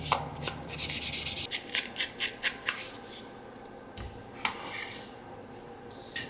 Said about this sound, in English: Now I'm going to put my vintage photo distressed ink on my edges and right here on the inside of the window.